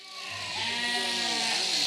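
A single sheep gives a long, wavering bleat close by amid a flock being sheared on a Scottish farm, rising slightly in loudness as it goes.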